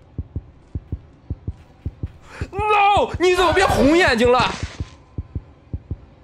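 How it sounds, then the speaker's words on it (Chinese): A steady, regular heartbeat thumps throughout the Granny 3 horror video game, with a voice talking loudly over the middle stretch while the even pulse continues underneath. "这个心跳声貌似是拿到小熊就会有"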